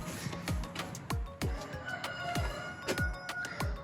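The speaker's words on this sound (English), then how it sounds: "Greetings from the rooster." A rooster crows close by, its call rising and falling, with sharp clucks and clanks scattered through the background.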